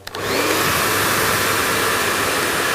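A powerful 3,200-watt hair dryer kicks on after a brief click and blows with a loud, steady, airy roar and whine close by, running continuously with no talking.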